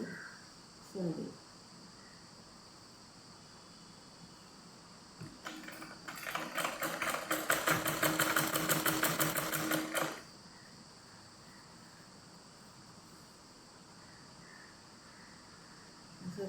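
A sewing machine stitches the edge of a cotton petticoat; a quiet room gives way to a few seconds of fast, even mechanical rattling that stops abruptly, with faint rustles before and after.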